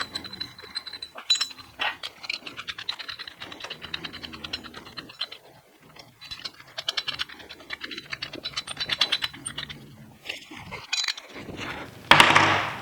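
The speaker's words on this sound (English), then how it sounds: "then I'm going to reinstall the dual 2 inch and the 2 5/16 inch balls" Steel 2 inch and 2 5/16 inch hitch balls are refitted on an adjustable tri-ball trailer hitch, giving quiet metallic clinks, ratcheting clicks and scraping at close range, with no talking.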